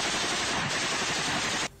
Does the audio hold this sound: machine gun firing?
yes